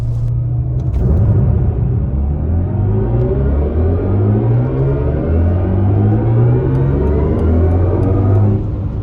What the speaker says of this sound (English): And then you can do like a launch control